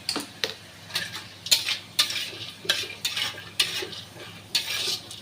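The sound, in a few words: bori (lentil dumplings) frying in oil in a wok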